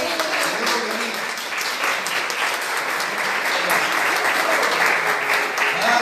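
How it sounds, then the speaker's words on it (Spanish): Church congregation gives a loud, sustained round of applause, many hands clapping continuously and close, with a voice faintly audible beneath. "démosle un fuerte aplauso al Señor"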